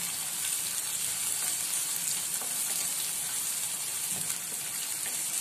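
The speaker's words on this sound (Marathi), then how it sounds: "शेंगदाणे टाकल्यानंतर 1-2 मिनिट हे आपण परतून घेणार आहोत" Roasted peanuts and tomato sautéing in a pan for shevai upma give off a steady, close, hissing sizzle. The sound stays even throughout with faint stirring scrapes underneath.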